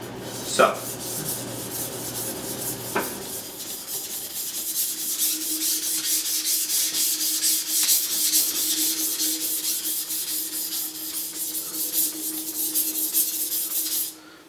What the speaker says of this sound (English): So now we've sharpened this first part of the knife from the shinogi line down to about halfway through.